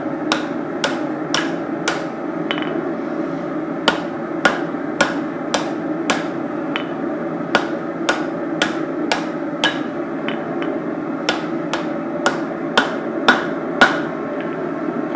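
Hot knife stock being forged on an anvil with a hammer, sharp ringing strikes falling in quick steady runs with brief pauses between bursts, close and clear over a low hum from the forge, no talking.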